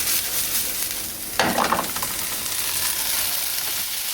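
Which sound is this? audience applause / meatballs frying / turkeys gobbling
meatballs frying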